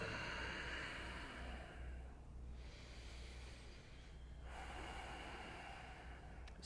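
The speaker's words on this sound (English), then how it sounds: "Solid exhale." A long, soft exhale through the nose during a held yoga pose, a quiet airy rush of breath that tapers, with a second gentler breath following, close and alone.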